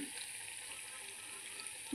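Thekua pieces fry gently in oil over a low flame, giving a soft, even hiss that holds steady throughout before a brief louder knock right at the end.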